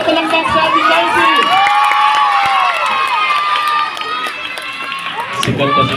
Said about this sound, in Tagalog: Isang malakas na palakpak sa ating council!